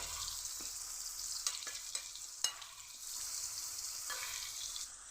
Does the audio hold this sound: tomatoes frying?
yes